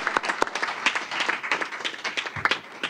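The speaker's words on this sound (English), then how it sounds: "y'all can clap for her" Audience at a school board meeting clapping, scattered individual claps in an uneven rhythm from a modest group of people, fairly close and distinct, with no talk over it.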